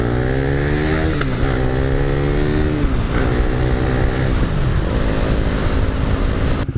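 A 2016 KTM Duke 390 motorcycle ridden alongside other bikes, engine droning loud and steady with rising and falling revs throughout.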